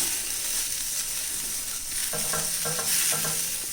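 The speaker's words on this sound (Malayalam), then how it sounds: "ഒന്ന് ഇളക്കി കൊടുക്കാം." Buttermilk being stirred in a pan for a brinjal curd curry, with the flame still off: a continuous wet swishing and scraping, a few rhythmic spoon strokes toward the end, no voices.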